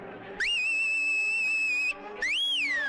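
Loud, piercing whistles from a whistler on Bigg Boss Tamil after a captaincy task win: one long sustained steady note, a short pause, then a rising-and-falling second whistle, close and clear.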